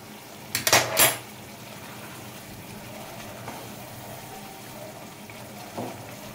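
Metal lid set onto a cooking pot of simmering oil-free chicken, a couple of sharp clanking hits close by, followed by quiet kitchen background.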